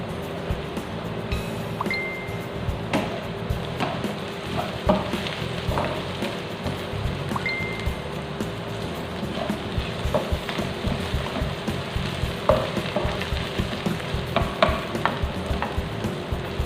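A pan of potatoes and cauliflower frying with garlic for curry, stirred with a utensil that scrapes and clinks near and clear against a steady sizzle.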